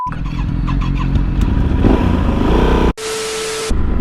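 A 2016 Yamaha Super Tenere motorcycle pulling away with added throttle, its engine loud and close with a steady mid-pitched drone that rises slightly, briefly dips, then resumes.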